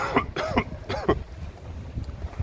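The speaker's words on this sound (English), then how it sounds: "my coughing is a lot better today" A person gives a short run of harsh, throaty coughs in quick succession, close to the microphone, followed by quieter breathing and background noise.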